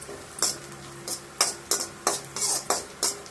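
Garlic sautéing in a pan on the stove, stirred with a utensil in short repeated strokes that scrape and clink against the pan over a faint sizzle, close and moderately loud, with no talking.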